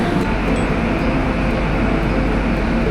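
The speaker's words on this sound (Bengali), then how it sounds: "তো ট্রেন আমাদের ছেড়ে দিল শিয়ালদা স্টেশন থেকে" The Padatik Express pulling out of Sealdah station, a dense steady rumble of rolling wheels and carriage noise heard from inside the train, constant and fairly loud, with no talk.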